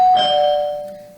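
A doorbell rings indoors, a single loud electronic chime that sounds clearly and then fades away slowly in a quiet room.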